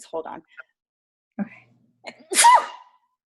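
A sharp, sudden sneeze bursts out loudly after a few quiet spoken words, with a brief intake of breath just before it.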